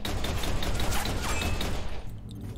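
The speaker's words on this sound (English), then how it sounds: "I have to trust the old handgun." Rapid handgun gunshots in the VR shooter District Steel VR, a dense burst of sharp cracks and clattering impacts close up, fading to quieter mechanical rattles at the end.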